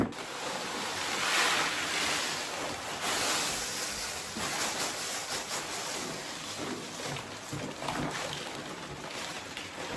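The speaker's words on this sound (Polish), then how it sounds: "A teraz z tym idę pod prysznic, idę to wyszorować" Steady rushing shower spray, loud and close, with a broad hissing wash and slight fluctuations as a cat litter box is scrubbed under the flow.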